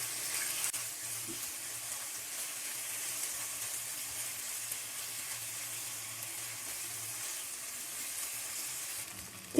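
Garlic and ginger paste frying with chicken in a pan gives a soft, steady sizzle that carries evenly throughout, faint and close, with a small clink at the very end.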